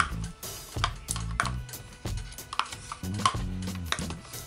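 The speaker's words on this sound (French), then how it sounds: "Et on va mélanger ça à la crème fraîche." Eggs being mixed with crème fraîche in a bowl, rapid irregular clicking and tapping of a utensil against the bowl in quick bursts, close and fairly clear with no talking.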